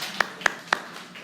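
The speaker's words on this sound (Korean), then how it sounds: "우리 옆 사람들을 향해서 우리 박수 한번 쳐줍시다" Church congregation at a Sunday worship service clapping toward their neighbours: three sharp, evenly spaced hand claps, fairly close, followed by a softer fourth.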